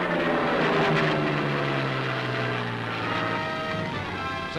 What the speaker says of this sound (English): Contact is made with the low-flying craft.